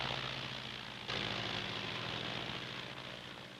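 Aircraft engine droning steadily through an afternoon takeoff, a broad continuous roar with a low hum that jumps louder about a second in and stays strong, with no voices.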